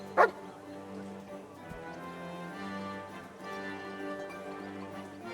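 In the video game Kingdom Come: Deliverance 2, a dog barks once on command, a single sharp bark at the start, followed by quiet background ambience.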